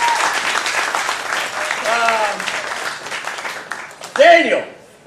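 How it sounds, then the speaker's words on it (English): Applause from an audience at a comedy roast, a steady broadband patter filling the room throughout with voices calling out over it and a loud shout near the end. "let's give them a round of applause for doing this."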